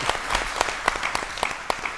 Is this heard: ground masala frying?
no